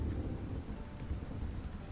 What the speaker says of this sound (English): It's just rain, so we're okay.